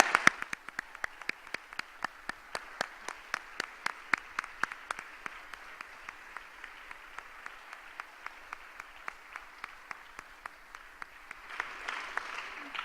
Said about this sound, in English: let's have a round of applause for our fall cadet commander.